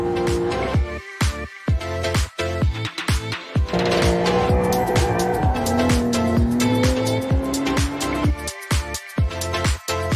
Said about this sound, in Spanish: las emocionantes Hot Labs vueltas a toda velocidad junto a los instructores expertos de Porsche